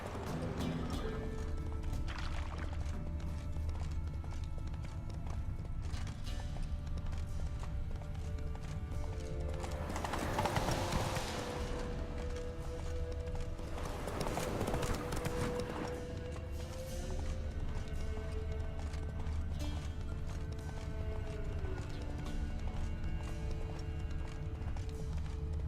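Roach the horse gallops in the Witcher 3 video game, steady rhythmic hoofbeats running under ambient music, with a couple of louder rushing swells along the way and a neigh.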